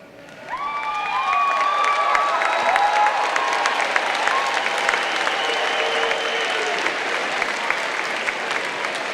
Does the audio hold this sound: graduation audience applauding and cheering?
yes